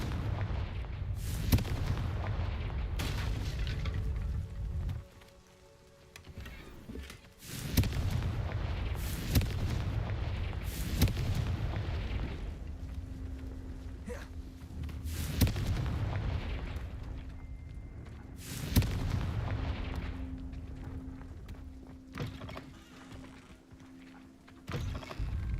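Confringo fire spell blasts cast in Hogwarts Legacy, a series of loud booming bursts repeating every few seconds over a steady low rumble of game ambience.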